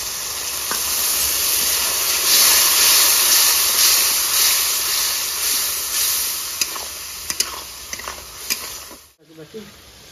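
Water poured into a hot pan of coriander and red chili powder sets off a loud, close hiss and steam rush that swells and slowly fades, with a few clicks near the end and a brief cutoff before a short clatter.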